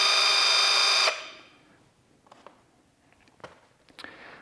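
An Avhrit cordless impact wrench whines loudly at a steady speed for about a second, then stops abruptly, followed by faint clicks and brief tool noises nearby.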